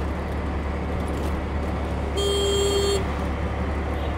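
Amid the steady rumble of street traffic at a busy Indian market, a vehicle horn gives one loud, sustained honk lasting under a second.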